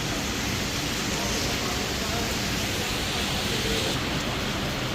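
Rain pouring down in a steady broadband hiss during a night of rain, growing heavier; the wash is continuous and close, with no voices over it.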